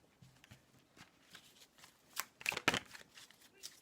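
Tarot cards are shuffled and laid out at close range. Soft, quiet riffling and flicking come in uneven bursts and build to a few crisp, louder snaps near the end, with no talking.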